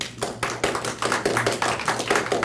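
Audience applause at an astronomy club meeting, a burst of brisk, uneven clapping from a room of people, close and fairly loud, steady for a couple of seconds.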